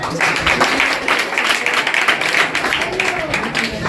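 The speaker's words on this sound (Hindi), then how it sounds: "इनके लिए एक बार जोरदार तालियां बजाएं" Loud, continuous clapping from a crowd gathered for a GK competition award ceremony, dense and close, with chatter and voices mingling under the applause.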